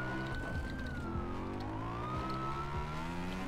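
A police car siren wails steadily close by, a rising and falling tone over the rumble of a motorcycle carrying riders through city streets in Brazil.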